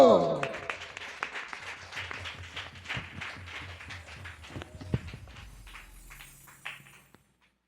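A church congregation claps along in a steady rhythm at a worship service, the clapping gradually fading out near the end, with a voice faintly underneath.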